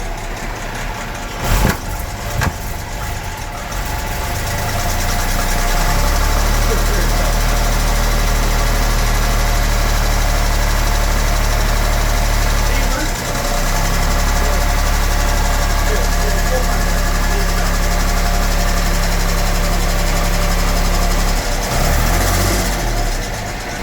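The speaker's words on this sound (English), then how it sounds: "I can hear it's got a little miss." A 1975 Jaguar XJ6 Series 2 engine with a cylinder misfire idles loudly with a rough, uneven lope and faint irregular stumbles in its rhythm, steady throughout with brief noises at start and end.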